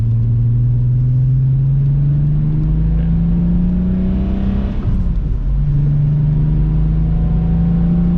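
A 12-valve VR6 engine in a Mk4 Volkswagen Jetta wagon rumbles steadily through a newly installed Remus muffler, a deep, loud drone that rises gently in pitch, dips briefly, then settles back.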